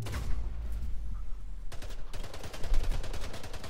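Rapid bursts of gunfire from the shooter game Splitgate, a stuttering string of shots that grows denser in the second half, close and loud with no voice over it.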